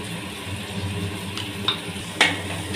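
A spoon stirs oats upma with salt, chilli powder and spices in a pan on the stove, scraping and clinking against the metal in a few sharp knocks over a low steady sizzle, close and clear.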